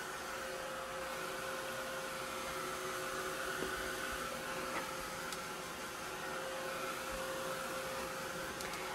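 A hair dryer blows steadily to dry a mixed-media art journal page with gelato crayons and water, a constant broad airy whoosh lasting throughout with a faint steady hum and no talking.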